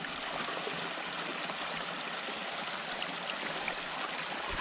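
A beaver-trapping creek flows steadily with a constant, close rushing and gurgling of water, with no voices or other sounds over it.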